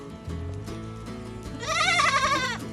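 Farm goats bleating for more food just after feeding, several overlapping calls building into a loud, wavering chorus in the second half, close by with low background rumble.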